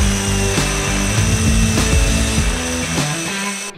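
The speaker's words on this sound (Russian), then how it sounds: "Затем удаляем бур из сверла и продолжаем сверление." A diamond core drill boring into concrete for socket boxes: a loud, steady drilling drone with a humming motor tone grinds on without pause, close by and continuous throughout.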